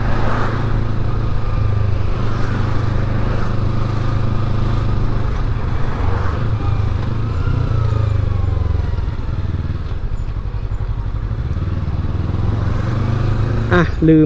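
Yamaha MT-03 motorcycle riding through congested traffic, a steady close engine drone with low rumble throughout, occasional throttle swells and passing vehicle noise around it, ending with a sharp clatter near the end.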